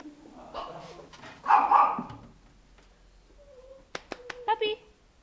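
Several puppies yapping in short, sharp bursts near the end, following a stretch of excited talk and cooing close by.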